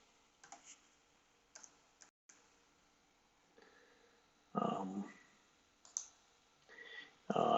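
Computer keyboard typing, a few short clusters of key clicks spread across a quiet stretch, ending in louder bursts of tapping near the close.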